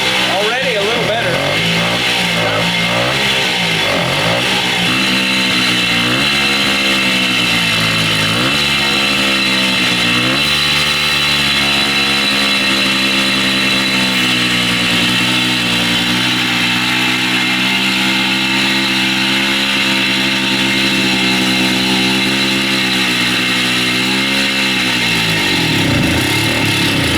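A 1969 Italian Morini 50cc two-stroke mini bike engine runs loud and close, buzzing and revving up and down in sweeping pitch changes before settling into a steady drone.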